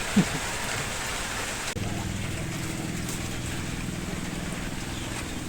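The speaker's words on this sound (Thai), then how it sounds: "ตอนนี้ฝนตกนะบรรยากาศดี" Steady rain falls outdoors while a Korat-style Thai mushroom and bamboo-shoot curry with tamarind leaves cooks, a constant soft hiss of close, even patter with a low hum underneath.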